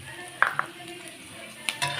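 Ginger dropped into a hot pan of browned garlic for chicken adobo, a few quick sizzling hisses and a soft stir clatter, close and moderately quiet.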